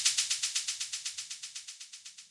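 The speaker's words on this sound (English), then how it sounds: "That's a nice shaker sample." A shaker sample in an Afro House track loops in a steady, even rhythm, each bright hissy shake rising and decaying quickly in a dry and fairly soft repeating pattern.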